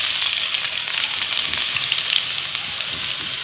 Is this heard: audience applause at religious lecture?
no